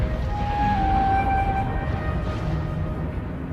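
An orchestral film score passage from Skeleton Crew plays a further evolved version of Jod Na's theme during a pirate ship crash, with a dense rumbling low end beneath a thin, sustained high melodic line.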